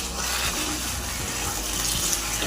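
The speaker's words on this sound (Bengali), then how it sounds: "সামান্য একটু জল দেবো" A little water poured into a pan of fish heads and potatoes, a continuous rushing, splashy pour that holds steady and loud for the whole moment, without speech.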